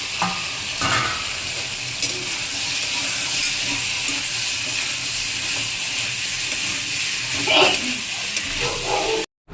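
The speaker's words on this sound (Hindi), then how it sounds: "यहाँ पर मम्मी ने सब्ज़ी छौंक दी है" Steady sizzling of vegetables tempering in a hot pan, a continuous hiss with occasional stirring clicks, close by and fairly loud.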